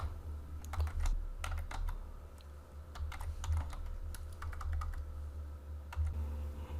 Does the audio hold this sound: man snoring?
no